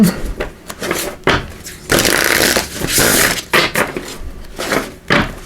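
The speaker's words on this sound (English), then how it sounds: "Just give these a good shuffle." A deck of oracle cards shuffled by hand in bursts of riffling and sliding, close and fairly loud, with short pauses between rounds and no speech.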